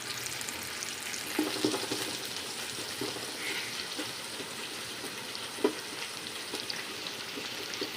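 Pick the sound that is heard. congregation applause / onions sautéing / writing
onions sautéing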